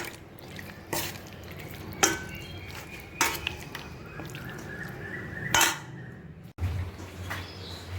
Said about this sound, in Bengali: এবার আমি সব মিশিয়ে দিচ্ছি, এটাকে ভালো করে মিশিয়ে নিয়ে আমি তারপরে আমি বানাবো।